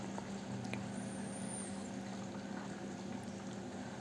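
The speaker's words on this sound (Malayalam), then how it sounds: "കശുവണ്ടി പാലിൽ കിടന്ന് ഇതൊരു 5 മിനിറ്റ് തിളക്കണം." Chicken curry simmering in cashew milk gives a soft, continuous bubbling hum, faint and steady, with a few small clicks and no talking.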